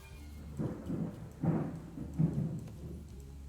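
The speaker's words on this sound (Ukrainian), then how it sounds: "Так, гроза просто жесть." A thunderstorm sends out several deep, rolling thunder rumbles in steady rain, with each swell rising and fading over about a second.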